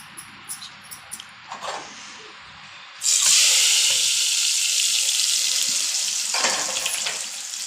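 Hot oil tempering for dal bursts into a loud, steady sizzle as asafoetida is added off the heat, following softer kitchen clinks and a brief splash.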